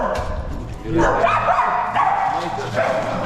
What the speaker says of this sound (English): a lot of dogs, man